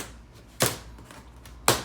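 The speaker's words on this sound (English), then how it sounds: "Get some scissors and just go ahead and cut these straps off." Two sharp snipping cuts of scissors through the packing straps on a power chair box, spaced about a second apart, against a quiet room background with no talking.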